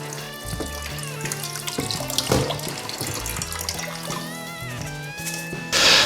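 Rice is rinsed under a running kitchen sink tap in New Orleans, a steady stream of water splashing close by beneath background music with tonal instrument lines, swelling louder near the end.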